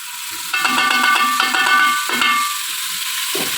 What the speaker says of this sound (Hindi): बस ये अब फ्राई हो रहे हैं